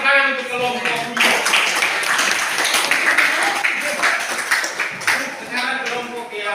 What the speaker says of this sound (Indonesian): Kita tepuk tangan untuk kelompok 2